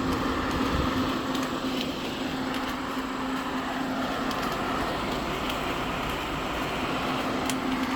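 Matsushita air conditioner with a very hot-running condenser, running steadily as a constant broadband whir with a low electrical hum throughout, no speech.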